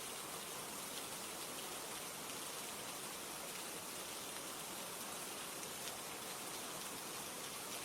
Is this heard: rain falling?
yes